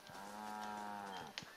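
Cattle in the Red Dead Redemption video game give one long, loud, sustained moo that runs about a second, followed by a brief sharp click.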